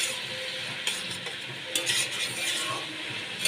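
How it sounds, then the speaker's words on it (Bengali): Cabbage and previously fried potatoes being stirred in a pan over a soft sizzle, with several distinct scraping and clinking strokes of a utensil against the metal, close and fairly quiet. "এবার আবারও আমি ভালো করে মিশিয়ে নিচ্ছি।"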